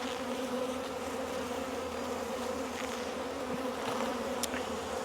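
Honeybees hum steadily around an open farm beehive, a close, continuous, soft buzzing drone with no voices.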